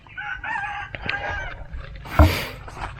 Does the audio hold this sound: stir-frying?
no